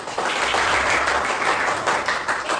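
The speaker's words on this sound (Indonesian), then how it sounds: "Sekali lagi aplaus untuk kita semua." An audience at a lecture-style teaching session for lecturer certification bursts into applause, a dense, steady clapping that starts abruptly and holds for a couple of seconds with no voices.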